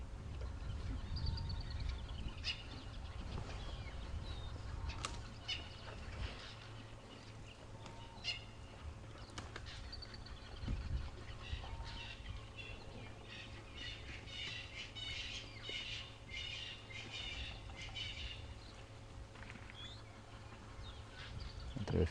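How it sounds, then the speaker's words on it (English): Various wild birds call at sunrise on a safari drive, a mix of chirps and whistles at moderate distance over a low vehicle hum, with a few soft bumps and no talking. "Just have a listen to what's going on around us. It's magnificent."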